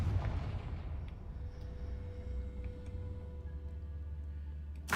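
Confringo blasting spell in Hogwarts Legacy, a burst at the start followed by a low, sustained rumbling boom, then a fresh sharp hit at the very end, with no voices.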